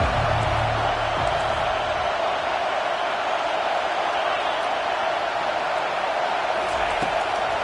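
Stadium crowd in an American football video game roars steadily on a 3rd down, a dense wall of cheering that holds at constant loudness with no talk over it.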